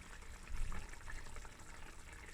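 Tomato puree pours into a pot of samp and beans stew, a short soft wet gush swelling briefly near the start and then settling into a low steady trickle, fairly quiet and heard alone.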